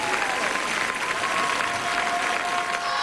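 A crowd at a 2001 figure skating competition applauds steadily through a short program, a full sustained roar of clapping with a faint tone running beneath it.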